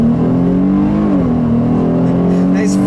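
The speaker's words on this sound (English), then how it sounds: "let's see about this acceleration in sport mode now." A 2017 Dodge Challenger GT AWD with automatic transmission accelerating hard in sport mode on a straight road, a loud steady engine drone rising slightly in pitch, heard from inside the cabin.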